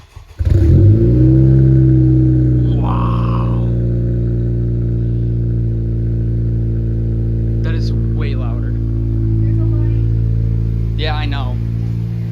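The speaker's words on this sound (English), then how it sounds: "we'll give you guys a cold start" A 2018 Honda Civic Si with an aftermarket catted downpipe cold starts, cranking and firing up with a loud roar, then settling into a deep, steady idle rumble while people talk briefly nearby.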